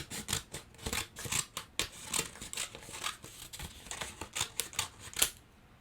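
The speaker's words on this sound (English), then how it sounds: "Now we can get our scissors in there, and we're going to cut out the middle of the paper plate" Scissors snip through a paper plate to cut out its middle for a children's craft, a close, rapid series of crisp crunching cuts in an uneven rhythm with no talking.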